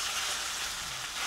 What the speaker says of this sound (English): You can see the oil just sizzling it